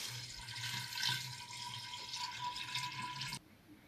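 Water pouring steadily into a homemade cherry plum wine mixture of fruit and water, a soft continuous splashing stream that runs for about three seconds and then stops abruptly.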